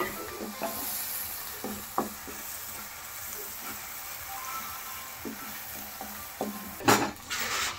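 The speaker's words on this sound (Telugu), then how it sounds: "ఎర్రగడ్డ చాలా గోల్డ్ కలర్ వచ్చేంత వరకు వేగించాలి." Onions fry in a pan until golden, a steady soft sizzle with occasional clinks and scrapes of a spoon against the pan, and a brief louder scrape near the end.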